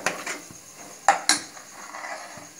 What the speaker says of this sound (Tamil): இதை வந்து நல்லா கிண்டி விடுங்க